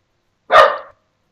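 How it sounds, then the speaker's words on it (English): A single dog gives one short, loud bark close by, alone against silence. "I don't know what they're barking at."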